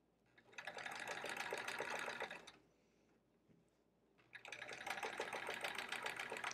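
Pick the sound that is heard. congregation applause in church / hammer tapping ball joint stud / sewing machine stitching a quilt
sewing machine stitching a quilt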